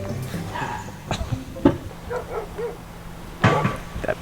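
Several dogs bark and yip in short bursts, one big dog among smaller ones, mixed with outdoor noise, with a louder cluster of barks near the end.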